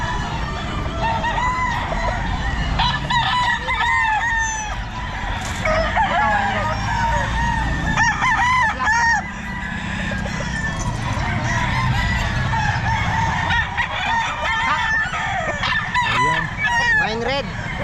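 Wine red gamefowl bull stag roosters at a busy Bocaue pet market, several crowing and clucking near and far over constant crowd murmur and market bustle.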